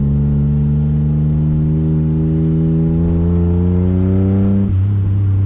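A car engine held at about half throttle under low load during tuning, a loud steady drone whose pitch climbs gradually, then drops abruptly near the end as the throttle closes.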